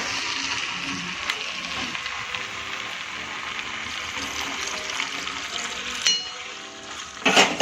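Water poured into a pan of masala spaghetti pasta hisses and sizzles steadily, with a clang of utensils near the end and no talking.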